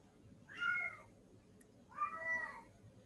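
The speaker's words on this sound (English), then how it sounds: "That's my cat." A house cat meows twice, two clear drawn-out calls about a second and a half apart, close by, over a quiet room hum with no talking.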